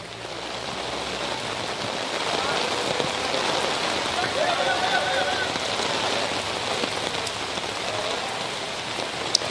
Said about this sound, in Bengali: বৃষ্টি ঘূর্ণিঝড়ের প্রভাবের কারণে